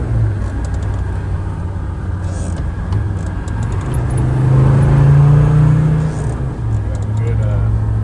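A performance-built 1998 Land Rover Defender 90 with a Td5 diesel engine drives on a two-lane road, its steady low engine drone rising as it downshifts and pulls harder, heard from inside the cab with no talk.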